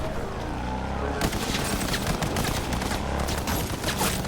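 Video game gunfire on a Nintendo Switch 2 rattles in dense, rapid bursts over a loud, constant background din, with a sudden shift to heavier firing after the first second.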